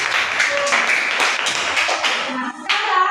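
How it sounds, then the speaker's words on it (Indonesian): A classroom gives a short round of applause for a student, with a few close hand claps rising briefly and then tapering off within a few seconds. "Tepuk tangan untuk Ajuni."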